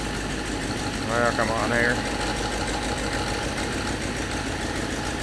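Long-stored 1954 Buick engine idling with a steady low rumble throughout, someone speaking briefly over it partway through.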